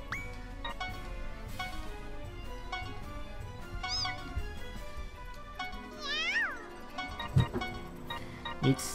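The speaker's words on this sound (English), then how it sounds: "It's the meow beast." A meow beast monster from the Disgaea 4 video game lets out cartoonish cat meows: several rising and falling calls, with a prominent one mid-clip and short yelps near the end, layered over steady game music.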